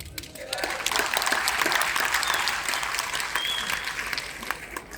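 Audience at a motivational goal-setting seminar breaks into loud, sustained applause, dense clapping that swells and holds for several seconds before easing slightly.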